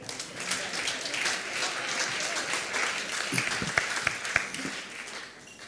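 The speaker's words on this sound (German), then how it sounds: "Und Sie dürfen ruhig nochmal klatschen." An education conference audience gives a round of applause, dense clapping throughout with a few distinct louder claps before it fades.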